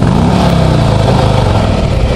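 A Harley-Davidson Road King Special motorcycle engine idles in neutral, a loud, close, steady low rumble with an even pulsing throb and no talk.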